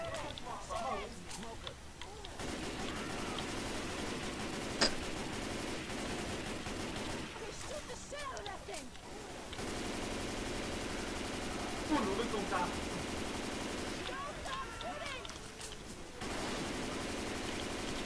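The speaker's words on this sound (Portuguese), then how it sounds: "Eu disparo para o tanque" Rapid gunfire in a video game, aimed at a tank during a team match, sounds in bursts through a steady loud game soundscape while players talk over it.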